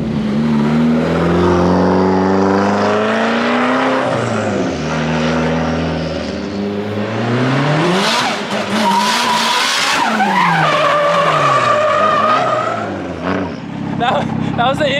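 Toyota JZX100 Chaser engine held at wide open throttle, a loud, meaty, continuous roar with rising and falling revs and tire skidding during a drift run, with a voice talking over it at times.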